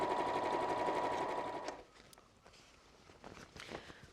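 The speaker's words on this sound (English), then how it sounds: "I'm just going to zigzag stitch this." A sewing machine runs a wide zigzag stitch along a tote bag seam, a steady close whirring hum for about a second and a half before stopping, followed by quiet handling noises.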